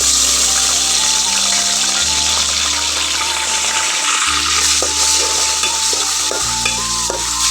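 Garlic paste frying in a pan with bay leaves, cinnamon and cardamom, stirred steadily, giving a loud, continuous sizzle with scraping strokes and a constant low hum beneath, no talking.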